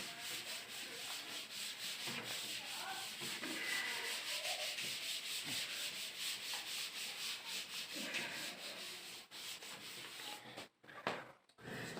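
A whiteboard is rubbed clean with a duster during a literature lesson, a continuous close scratchy wiping that runs steadily for several seconds and then breaks off into brief pauses near the end.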